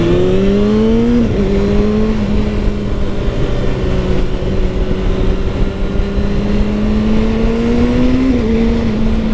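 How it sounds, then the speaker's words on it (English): A 2019 Kawasaki ZX-6R sport motorcycle engine drones loudly and steadily, rising in pitch through continuous revving, with a brief dip near the start and a climb toward the end. "I hope y'all can hear the engine on this."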